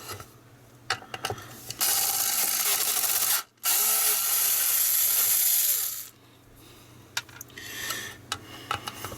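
Screws are driven out of an Atari 2600 Heavy Sixer console during restoration: close, loud bursts of a ratcheting electric screwdriver whirring for a few seconds, with scattered clicks and handling noises around them.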